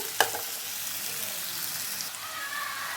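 Potatoes frying in a pan with salt, a soft continuous sizzle at low level with a brief clatter of a stir near the start, no talking.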